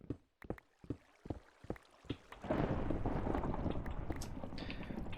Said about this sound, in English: Sorry about the thunder. Minecraft thunder.